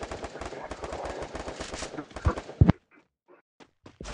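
Rapid bursts of automatic gunfire in a multiplayer shooter video game, a dense string of shots followed by a few sharp isolated reports, with players talking over the action.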